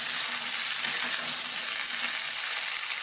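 Steady, close sizzling of vegetables sautéing in a hot pan for sambar, a continuous hiss with faint crackles throughout.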